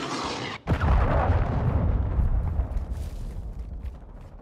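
A cruise missile strike in Call of Duty: Modern Warfare II lands as a sudden loud, deep explosion after a brief cutout, followed by a long rumbling roar that slowly fades.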